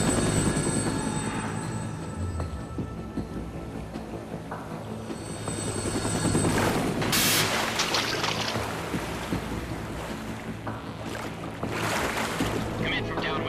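Helicopter from Metal Gear Solid 2 approaching the Big Shell offshore facility, a steady rotor and engine drone under a continuous game soundscape with wind and water, growing louder midway, while voices talk over it.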